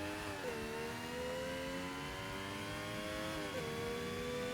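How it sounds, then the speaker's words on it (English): A car engine in Forza Motorsport drones at a steady high pitch, with two quick gear-shift drops as the revs fall and climb again, no talking. "How can I hear the engine sound?"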